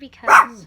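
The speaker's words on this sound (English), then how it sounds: "that was just my dog" A single short dog bark, close and fairly loud, with a person's voice speaking over it.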